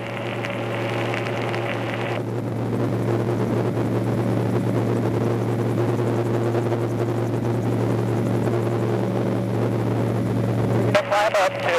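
An MTO Sport autogyro climbing out after takeoff makes a loud, steady engine and rotor drone that continues throughout, with a brief change near the end.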